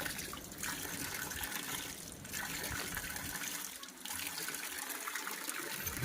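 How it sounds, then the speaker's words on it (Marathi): Spring water gushes steadily from a natural source near the Konkan coast at Ganpatipule, a close, continuous splashing rush with slight swells in flow and no voices heard. "आणि ते भरपूर झरे आहेत पण अजूनही कळत नाही की इथून पाणी कुठून येतं"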